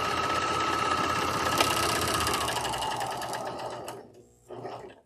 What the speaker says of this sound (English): all I'm doing is test sewing to make sure that my rolled edge here